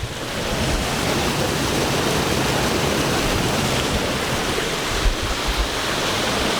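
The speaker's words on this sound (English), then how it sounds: "So just a few meters further there is a next nice waterfall here." A small waterfall on a hiking route makes a steady, broadband rush of falling water, close and continuous without any break.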